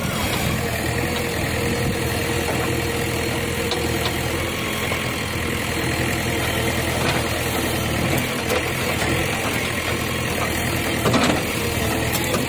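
A JCB excavator's engine runs steadily and fairly loud while it loads wood into a tractor outdoors, a continuous low rumble with occasional clanks and no talking.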